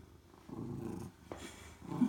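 A big 15-pound cat purrs on a catnip-sprinkled towel, a low rumbling purr close by in pulsing bursts with brief pauses and no talking.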